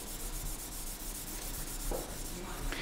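A violin bow is drawn back and forth across a pat of rosin close up, giving a continuous soft, dry scraping rub with slight swells and no talking.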